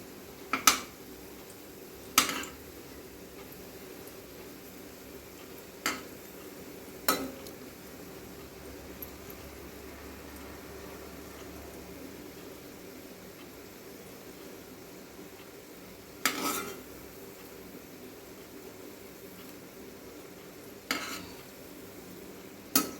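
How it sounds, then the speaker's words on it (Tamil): Bread pieces frying slowly over a low flame for halwa, a soft steady sizzle with sharp spoon-on-pan clinks every few seconds as the bread is stirred. "லைட்டாக அந்த ப்ரெட்டு கலர் சேஞ்ச் ஆகினே வறுத்து எடுத்து வச்சுக்கணும்."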